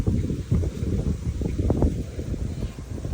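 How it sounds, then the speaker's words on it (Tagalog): Wind gusting outdoors during an afternoon walk in a park, a low rumbling buffet against the microphone, constant and close with uneven surges and no talk. "Mahangin ngayon, mahangin."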